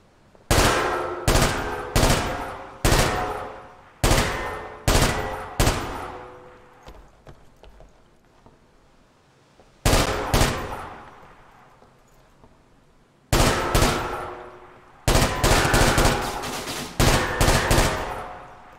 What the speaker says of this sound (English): Just because I want to check out the machine gun.